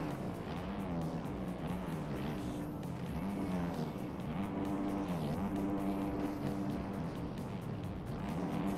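Dirt bike engines drone from behind the rider in a supercross video game, a steady buzzing motor sound with shifting pitch that stays moderately quiet and continuous throughout, no voice over it.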